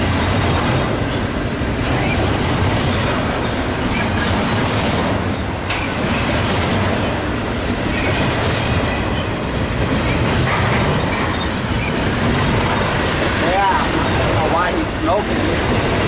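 A freight train passes on the main line, with continuous loud clickety-clack of wheels on rail and occasional wheel squeal, close by throughout, with faint voices underneath.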